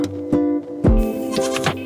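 A goat bleats several times in quick succession, loud and close, with short wavering cries and no speech.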